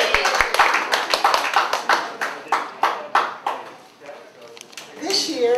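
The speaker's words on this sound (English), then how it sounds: "Our Vice President, Vicki Wilson, give her a nice round of applause." Hands clap several times at a veterans' peace group awards gathering in Palm Springs, a scattered burst of loud close claps fading into quieter ones, with a cheer rising near the end.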